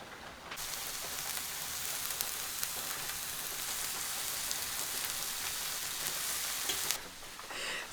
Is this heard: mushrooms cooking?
yes